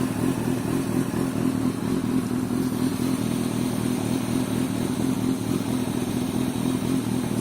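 A 2005 Kawasaki ZX6R 636 sport motorcycle idles steadily while warming up, a continuous close engine drone with a low mechanical clatter running throughout, no voices.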